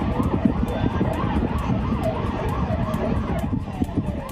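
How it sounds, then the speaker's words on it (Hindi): Wailing fire engine sirens rise and fall continuously over a busy traffic rumble, with more than one siren overlapping at mid distance. "फायर ब्रिगेड के सायरन का शोर बता रहा है कि मौके पर कई गाड़ियां"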